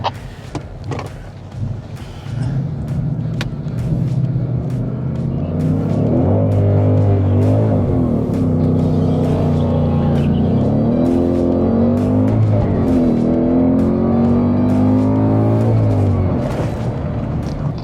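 A Ford Mustang, either a Mach 1 or a Dark Horse, launches at a track-day race start at Zwartkops with its engine roaring loud and close, the revs rising and dropping through repeated surges as the wheels spin.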